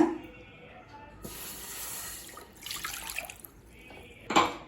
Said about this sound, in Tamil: இப்போ அடுத்தது இதில் 1/2 கப் தண்ணி சேர்த்துக்கலாங்க